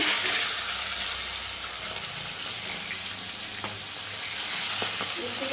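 Fish heads frying in hot oil in a home kitchen, a steady close sizzle with soft stirring and a faint trickle of water running throughout.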